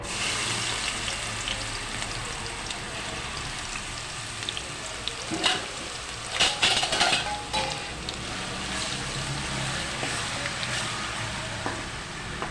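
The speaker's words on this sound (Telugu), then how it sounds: "నూనె అయితే హీట్ ఎక్కిందండి ఇప్పుడు మనం ఆనియన్ పేస్ట్ వేసుకుందాం" Onion paste frying in hot oil for a fish curry, a steady close crackling sizzle throughout with scattered louder pops and spatters.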